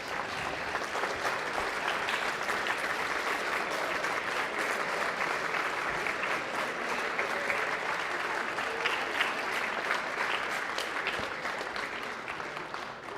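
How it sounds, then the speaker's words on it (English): A large crowd gives a sustained, even round of applause for parents at a youth soccer club's senior night, dense steady clapping that holds for the whole stretch with little variation. "if we could stand up and give them a big round of applause for all they've done to help you guys"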